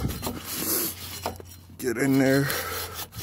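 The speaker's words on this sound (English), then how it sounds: "I'm also going to brush this because of how stuck that rotor was" A wire brush scrubs rust from a stuck brake rotor on a 2000 Lincoln Navigator in quick, rough strokes up close. Someone speaks briefly over the scrubbing.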